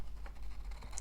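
Pencil tracing around a card template on a sheet of thick old dictionary paper, a soft continuous scratchy scribble with small strokes over a low background hum, close and faint.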